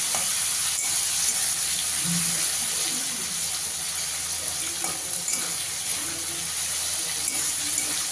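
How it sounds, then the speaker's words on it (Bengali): Shrimp frying lightly in oil in a wok for a shrimp and taro-greens dish: a steady, close crackling sizzle that runs evenly throughout with no talk. "আমি চিংড়ি মাছটা একটু হালকা করে ভেজে নেব।"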